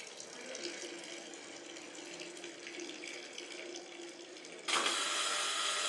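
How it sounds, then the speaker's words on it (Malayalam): Water runs steadily from a leaking pipe in a school science fair demonstration in Kerala, a continuous splashing hiss that suddenly grows louder and brighter near the end. "ലീക്കേജിനെ സൂചിപ്പിക്കാനായി ഈ പൈപ്പ് കാണിക്കുന്നു"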